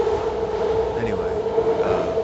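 A moving train interior with a steady low rumble and hum that runs throughout, and a person talks over it the whole time.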